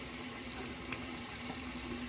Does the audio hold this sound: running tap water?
yes